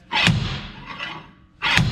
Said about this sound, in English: we put our big slide hammer on here, and we're gonna try to get this hub pulled